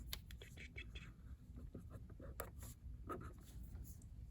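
A pen scratches lightly across paper, sketching asymptotes on a precalculus graph, with soft close strokes heard beneath quiet speech.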